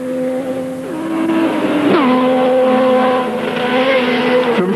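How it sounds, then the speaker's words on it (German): A 50 hp Trabant rally car in the 1989 Pneumant Rallye Berlin, its small engine buzzing loud and close as it revs and shifts, pitch sliding down and climbing again through the gears with no talk. "50 PS arbeiten unter der Motorhaube. Man hört es."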